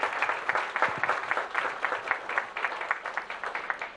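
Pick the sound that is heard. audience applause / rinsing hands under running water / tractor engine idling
audience applause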